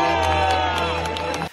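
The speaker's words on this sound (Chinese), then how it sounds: "不过现场依旧获得不少掌声" A baseball stadium crowd at the New York Mets Taiwan Day game cheers and applauds after the first pitch, a loud, steady roar of many voices with a sustained tonal hum running underneath throughout.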